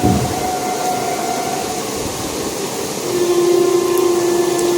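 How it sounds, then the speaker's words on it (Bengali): A train rolls past outside a window on a rainy day, a loud steady rumble and roar with a sustained horn-like tone, near and continuous throughout, with no talking. "মাঝে মাঝে একটু ট্রেন দেখতে মেল দেখতে দাঁড়িয়ে পড়ি"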